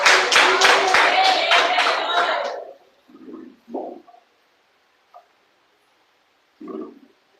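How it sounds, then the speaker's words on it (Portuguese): A short burst of clapping from a church congregation fills the first few seconds, then fades into quiet with a few scattered soft thumps. "palmas e glória a Deus."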